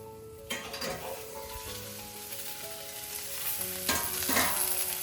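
Ivy gourd pieces frying in a pan for an onion masala, a continuous bright sizzle with stirring scrapes, rising in louder bursts near the start and end, no voices.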